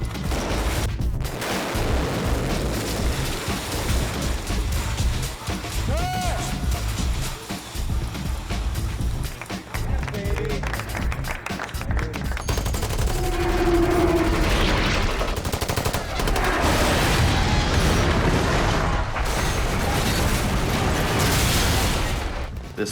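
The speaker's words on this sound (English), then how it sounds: "That the explosions, the pipes that would flip up into frame, the debris that would fall" Practical explosions and falling debris on The Matrix film set, with loud, dense bursts of booms and crackling rubble, sharp impacts throughout and a heavier rumbling stretch toward the end.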